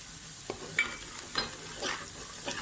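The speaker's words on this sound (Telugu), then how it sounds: "ఇవన్నీ వేసుకుని చక్కగా ఫ్రై చేసుకోవాలి" Chicken fries in a pan with ginger-garlic paste, turmeric and coriander powder, with a soft, close sizzle and a few scraping stirs of a spatula.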